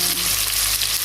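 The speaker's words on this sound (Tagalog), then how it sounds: "Medyo natusta-tusta na yung mga taba-taba." Pork and pork fat fry in hot oil in a pan, a loud, dense crackling sizzle that runs steadily through the short moment.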